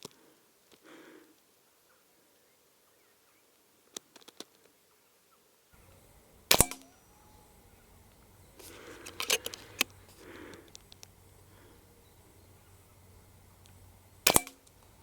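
An FX DRS sub-12 ft-lb air rifle fires at a 25-metre target: three sharp, close cracks spaced several seconds apart, separated by faint handling noise and quiet stretches.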